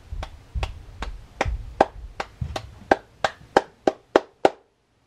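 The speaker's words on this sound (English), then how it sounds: "Light claps, maybe it makes only move one." Light hand claps, about a dozen, set off a CD4017 LED kit. The claps come in a steady run: softer and muffled at first, then sharper and crisper toward the end, close to the mic, with no voices.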